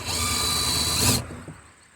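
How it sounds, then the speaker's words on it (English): A power drill whines loudly and steadily, grinding into the steel of an old abandoned semi trailer for about a second, then cuts off, leaving a faint mechanical tail. "drill through that metal, hopefully"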